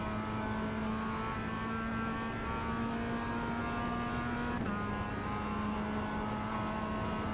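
Mazda MX-5 race car in iRacing at Oulton Park, its engine droning steadily and close at high revs for the whole stretch, with a brief dip in pitch midway as the throttle lifts and then returns.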